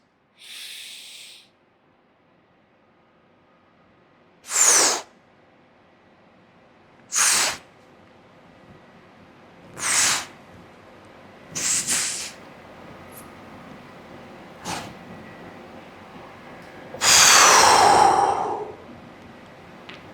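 Deep breathing exercises: a series of separate loud, airy inhalations and exhalations spaced a few seconds apart, with a longer, fuller breath near the end and near-silence between them.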